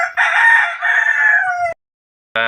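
A rooster crows loudly nearby, one long drawn-out call, then after a pause a second crow begins and cuts off.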